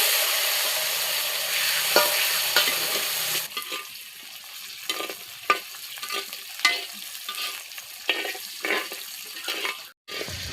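Onion and garlic sautéing in a pan after mustard seeds have popped, a steady close sizzle with intermittent scraping stirs and clinks, one brief gap near the end.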